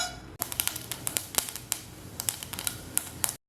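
Mustard seeds pop and splutter in hot coconut oil in a pan, a steady run of sharp crackles and snaps up close with no talk over them.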